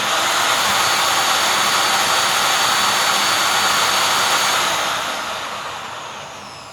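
Rainbow E2 single-speed vacuum cleaner motor running without proper load after a refurbishment, a loud, close, steady high-pitched roaring whine that holds for several seconds and then eases off.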